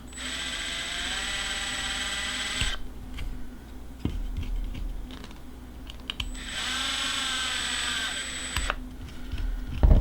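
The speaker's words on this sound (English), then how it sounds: "I'm going to go ahead and drill the bottom side too." Small drill bit boring through an NES MMC3 TLROM reproduction cartridge circuit board, two sustained whirring bursts of a few seconds each, close and steady, separated by quieter handling clicks and taps.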